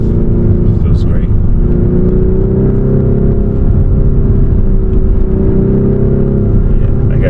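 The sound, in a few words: BMW engine revving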